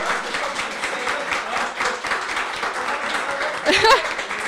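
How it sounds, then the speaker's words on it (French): An audience claps steadily for Paul-Alain Moisan of Construction Polyvalent at a community gathering, a dense patter of many hands, with a voice rising briefly near the end. "on pourrait donner une bonne main d'applaudissement à Paul-Alain Moisan de Construction Polyvalent"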